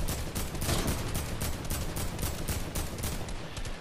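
Rapid bursts of gunfire in a shooter video game, a steady dense fusillade of shots repeating throughout with no voices over it.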